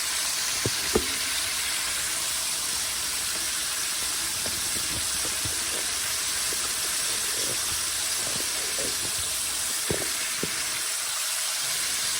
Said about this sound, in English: let this fry, and I'll be back when it's about ready to come out